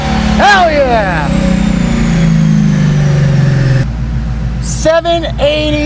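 A twin-turbo Hellion S650 Mustang on 93 octane accelerating hard in fifth gear, its loud rising engine drone sweeping upward with a shift and a fresh surge near the end. Someone shouts over it.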